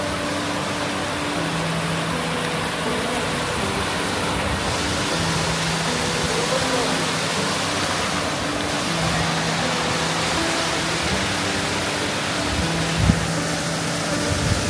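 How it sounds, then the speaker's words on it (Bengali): A mountain waterfall in Nepal on the route to a Kali temple, feeding the Kali river, gives a loud, unbroken broadband rush of falling water, steady and close throughout. "সেখানে যেতে যেতে একটা ঝর্ণার দেখা মিলল"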